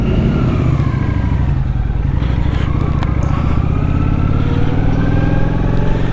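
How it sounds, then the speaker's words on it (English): A Kawasaki Vulcan 900 Custom motorcycle engine runs close by at a steady, loud, throbbing idle with slight rises in pitch throughout. "Alright, well, start it up."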